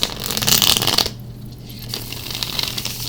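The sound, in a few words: shuffling a tarot card deck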